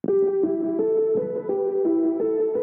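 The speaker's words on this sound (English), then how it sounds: "Without the effects, it sounds like this." Simple piano arpeggio played dry without effects, a steady loop of short repeated notes stepping between pitches, loud and alone.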